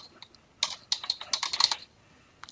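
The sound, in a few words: typing a title on a computer keyboard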